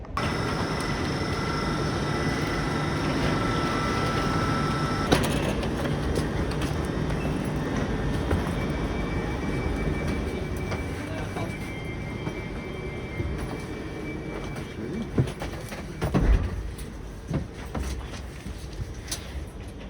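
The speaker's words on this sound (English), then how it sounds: "So that's me on the Heathrow Express, and now just the short 15 minutes or so journey to Paddington." Heathrow Express train travelling toward Paddington, a steady interior rumble and rolling rail noise that is continuous and fairly loud, with a few clunks and jolts near the end.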